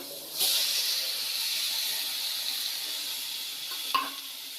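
Onion and tomato fry in a pan with a steady close sizzle and faint stirring scrapes, with a brief clatter near the end and no talking.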